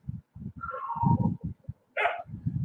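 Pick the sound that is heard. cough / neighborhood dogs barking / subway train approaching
neighborhood dogs barking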